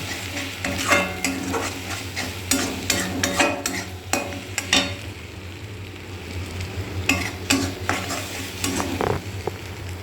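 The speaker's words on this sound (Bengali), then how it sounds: "এবার এটাকে এরকম করে ঘেঁটে ভুজিয়া বানিয়ে নেব" Bhujia mixture being stirred and mashed in a sizzling pan, a steady frying hiss under repeated scraping strokes of a spatula against the metal, close and fairly loud with no talking.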